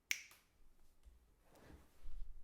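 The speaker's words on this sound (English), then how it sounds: "Snap my fingers, maybe." A single crisp finger snap rings out at the start, loud and close, then fades to quiet room noise with faint low rumble.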